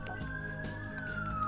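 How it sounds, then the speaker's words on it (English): A police siren wails in the background, a steady tone slowly gliding downward, continuous beneath low room noise during a Yu-Gi-Oh! card game session. "there's a lot of sirens in the background"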